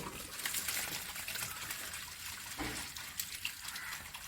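Water runs steadily from the tap of a natural water filter, a soft continuous trickle and splash heard alone throughout.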